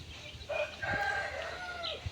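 On a poultry farm keeping native chickens, a rooster crows in a clear, drawn-out call over soft background clucking from the flock, heard alone without talk.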